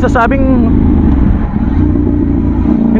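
A KTM Duke 790 motorcycle engine roars steadily under acceleration, loud and close with rough mechanical texture, while someone talks briefly at the start.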